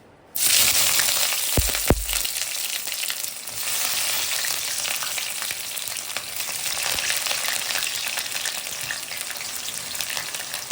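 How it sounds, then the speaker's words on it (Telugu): Sliced onions hit hot oil for a sudden loud sizzle with a few low thuds, then fry in a steady, broadband crackle that runs on alone with no talk, for a dum biryani made with stuffed brinjal. "నూనె బాగా వేడెక్కింది వేడెక్కిన తర్వాత మనం తరిగి ఉంచుకున్న ఉల్లిపాయ ముక్కలు వేయించుకోవాలి"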